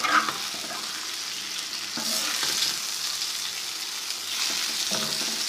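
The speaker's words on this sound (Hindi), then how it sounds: "हमने कलेजी शामिल कर दी और इसको थोड़ा सा फ्राई करेंगे।" Mutton liver fries with browned onions in a hot tawa pan, giving a steady close sizzle and crackle that swells in two louder bursts as the pieces are stirred, with no talking.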